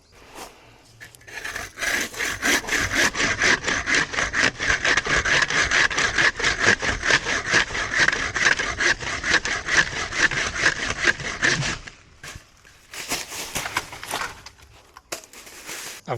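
Bamboo poles being sawn by hand during a harvest, a loud steady rhythm of rapid back-and-forth strokes for about ten seconds, then a pause and a few more scattered strokes close by.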